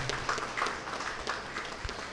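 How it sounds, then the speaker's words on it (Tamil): Steady applause from a crowd at a Catholic religious profession ceremony, a dense wash of clapping that carries on evenly throughout. "நாம் நம்முடைய கரகோஷத்தை எழுப்பி அவர்களை வரவேற்போம்"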